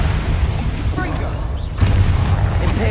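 A Confringo blasting curse detonates in Hogwarts Legacy, a booming burst over steady low rumbling combat noise, with game voices and battle sounds around it.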